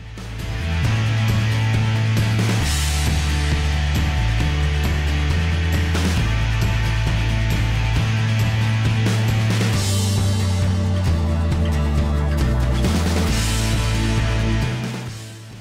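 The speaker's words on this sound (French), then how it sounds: "Donc un premier point de soudure, je corrige l'alignement au marteau et d'autres points de soudure pour maintenir le boulon en place." Steady loud machine drone with shifting low tones runs throughout, fitting arc welding of a bolt onto a steel I-beam for a barbecue smoker frame, with no distinct hammer blows standing out.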